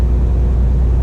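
A Scania G450 truck engine holding a deep, steady low rumble with a faint whir on top during a manual gear change, loud and close, no talking.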